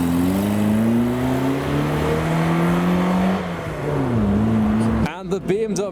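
Sunbeam car pulling away from a car show, its engine note rising and shifting steadily up close for several seconds before a brief burst of other noise at the end; voices faintly present.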